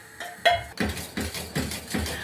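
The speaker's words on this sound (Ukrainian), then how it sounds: "варимо весь час помішуючи" A spoon scraping and knocking against a pot while cake custard cooks, a series of close, fairly regular clinks and scrapes in quick rhythm.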